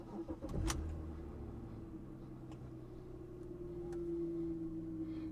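A 2001 BMW E46 330i Touring with a five-speed manual cranks with a short burst, fires, and settles into a steady, smooth idle hum, heard from inside the cabin.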